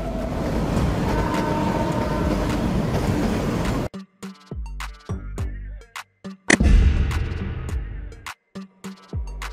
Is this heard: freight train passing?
yes